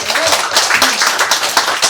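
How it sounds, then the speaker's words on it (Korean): A church congregation claps together after a baptism, a dense, steady wash of applause lasting a couple of seconds with some voices mixed in. "우리 친구들을 위해서 우리 한번 박수를 쳐주기 원하는데요"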